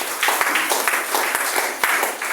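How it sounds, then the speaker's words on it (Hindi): Audience applause at a gathering: dense, continuous hand clapping from a crowd, fairly loud and close, with a few sharper claps standing out. "ताली होना चाहिए।"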